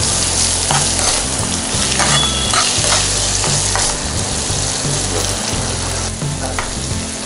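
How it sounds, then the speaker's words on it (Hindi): Ginger garlic powder stirred and fried in a kadhai, a steady loud sizzle with repeated scraping stirs of the spoon throughout, no voices. "और इसमें डालेंगे हम एक चम्मच अदरक और लहसुन का पाउडर ये इसके अंदर, और इसको मिक्स कर लेंगे"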